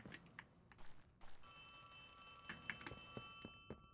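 A telephone rings inside the video game Poppy Playtime: a quiet, steady electronic ring that holds for several seconds over soft thumps and footsteps-like knocks, with no one speaking.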